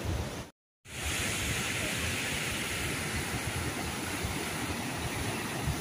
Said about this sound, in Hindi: आवाज़ से ही आप देख सकते हैं दोस्तों कितना तेज़ फ्लो है एंड बड़े बड़े पत्थर जा रहे हैं